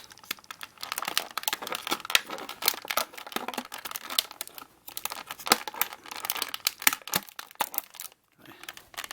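Plastic bands are cut off a Masters of the Universe Origins action figure package. Dense, close crinkling and crackling mix with sharp snipping clicks in quick, irregular bursts, fairly loud and with no talking.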